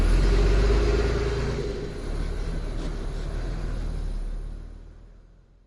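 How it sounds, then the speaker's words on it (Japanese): A bus engine rumbles low and steady, loudest at the start, then fades gradually as it pulls away. "これはバス。"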